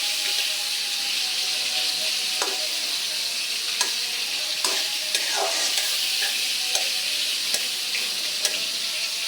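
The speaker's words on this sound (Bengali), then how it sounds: "পেঁয়াজ কুচিটা ভালো করে ভাজা হোক।" Chopped onion with green chilli frying in oil in a pan, a continuous close sizzle with intermittent scrapes and clicks from stirring, no voices.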